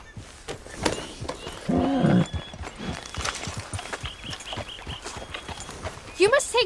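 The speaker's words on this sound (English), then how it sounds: "And that is a good horse." Horse hooves clop steadily in the Red Dead Redemption video game, a rhythmic trot heard up close under talk, with a horse snorting and neighing partway through.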